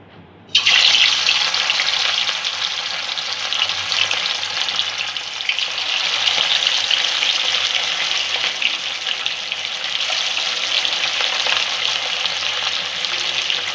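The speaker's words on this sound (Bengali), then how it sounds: "তেলটা গরম হয়ে গেছে। মাছগুলো এবার আমি ভেজে নেব।" Rohu fish pieces fry in hot mustard oil in a kadai, a loud, even sizzle that erupts suddenly after a quiet instant and holds steady and close for the rest of the time.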